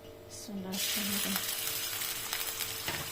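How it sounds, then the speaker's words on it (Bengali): Chopped new-season onions hitting hot oil in a pan, a loud, steady broadband sizzle that swells up after a brief start and holds continuously, with a few faint clinks of stirring. "তেল দিয়ে দিলাম। এখন পেঁয়াজ কুচি দিয়ে দেব।"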